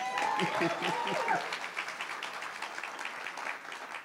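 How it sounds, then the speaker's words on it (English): A library audience claps after a voice at the start; the applause is moderate and steady, then tapers off over a few seconds. "clap it up"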